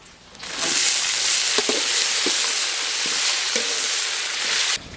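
Green chillies frying in hot oil for a sambar tempering, a loud, continuous sizzle that bursts in after a quiet start, with a few sharp crackles and stirring clicks, then cuts off abruptly near the end.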